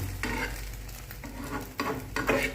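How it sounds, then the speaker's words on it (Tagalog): An egg fries in a pan with a close, steady sizzle, broken by a few scraping stirs and crackling bursts. "Pritong itlog"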